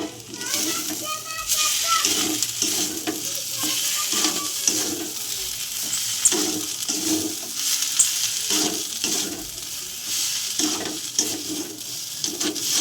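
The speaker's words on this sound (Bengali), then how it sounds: "মাছটা ভালো করে আমি কষে নেব।" Bhetki fish mixed with boiled potato, fried spices and garam masala sizzles and is stirred steadily in a pan, a constant close frying hiss under voices talking.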